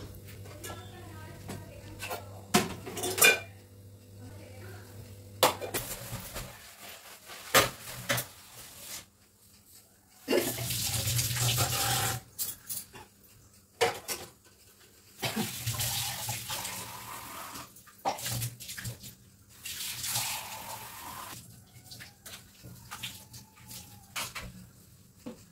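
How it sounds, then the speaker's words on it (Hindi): Dishes being washed under a running kitchen tap, gushing water coming in long stretches between clinks and handling noises, close and fairly loud, with someone talking at times. "अब मैं यहाँ पे सिर्फ धोने का काम कर रही हूँ"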